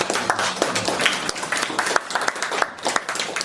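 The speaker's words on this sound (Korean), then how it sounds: "박수 한번." Audience applause at a hanok concert: a short burst of scattered hand clapping from a small crowd, steady for a few seconds, with no voices standing out.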